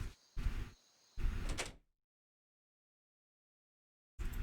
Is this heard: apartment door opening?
yes